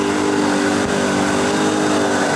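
A little Jeep competing in a 4x4 trial holds a loud, steady high-revving engine note close by, with a brief dip partway through.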